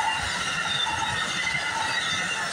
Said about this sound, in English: Symbol on that train is AMTRAK 48, originates from New York, Chicago, Illinois, terminates in New York City and New York.